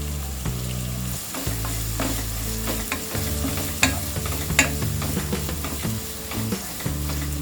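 Chopped onions fry with ginger garlic paste in a hot pan, giving a loud, steady sizzle broken by scraping stirs and occasional spoon clatters close by.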